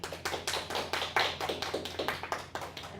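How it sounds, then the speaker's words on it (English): Elementary school listeners give a student speaker a quick round of clapping. The sharp, quiet claps form an uneven, rhythmic patter from a small group, with no talking over it. "First, can we clap for you?"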